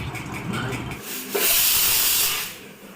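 A pressure cooker vents steam in a kitchen, a loud broad hiss surging up and holding steady for about a second before fading, after a duller rumbling stretch.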